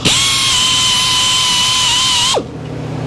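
Electric saw chain sharpener grinding the face of a chain tooth, giving a loud, steady high whine for about two seconds before spinning down abruptly, close up with no talking.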